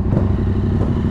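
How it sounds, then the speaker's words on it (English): A 2018 Yamaha MT-09 motorcycle engine rumbling close by, a loud, deep, throbbing idle with a steady pulsing rhythm over a brief moment. "Nick just bought an MT09"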